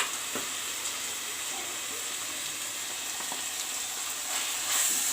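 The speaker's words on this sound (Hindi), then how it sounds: "सब चीज के बढ़िया से फ्राई हो दियो।" Chili powder, garam masala, meat masala and coriander powder frying in a pan for a spicy pea curry, giving a steady, close hiss and sizzle with faint stirring.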